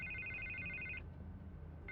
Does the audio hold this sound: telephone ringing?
yes